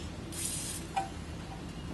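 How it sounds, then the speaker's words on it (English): A soft hiss of lubricant aerosol spray lasting under half a second, followed by a brief faint click, with a low hum beneath. "put a little bit of spray on there, so a little bit of lubricant"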